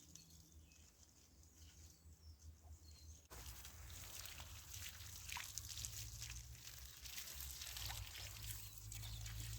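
Water pours steadily from a hose or can while a garden is watered on a scorching hot day, a soft continuous splashing and trickling that grows a little louder partway through, with no talk.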